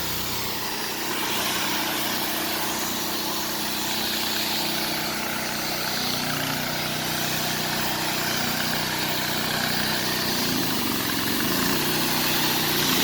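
A pressure washer's engine runs steadily throughout, a continuous mid-pitched mechanical drone with vibration and no talk over it.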